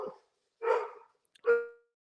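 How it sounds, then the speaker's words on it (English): A dog barks three times in a quiet indoor setting, short separated woofs with the last one sharper and more tonal, fairly close and moderately loud with silence between. "I knew I wouldn't be able to get through a whole entire live without him barking"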